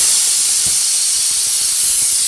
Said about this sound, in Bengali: আলুর সিটি উঠে গেছে।